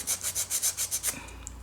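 Rhythmic rasping of a file worked along the underside of an acrylic nail, about eight quick, even strokes close up, then stopping into quiet.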